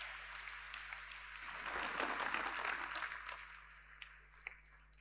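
Audience at a large public speech in Haryana applauding to greet the state government, a broad wash of clapping that swells in the middle and thins toward the end, with a steady low hum underneath.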